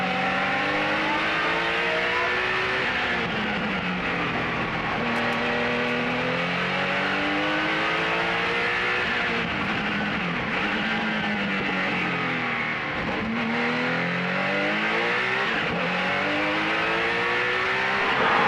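A 1986 Porsche 962C and other race cars roar past one after another in a historic race, engines revving and shifting in rising and falling sweeps, loud and continuous with no talking.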